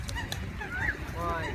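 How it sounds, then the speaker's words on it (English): A large pet duck gives a couple of short nasal honks close by, under a noisy background with faint chatter. "Hey, big duck. Come here."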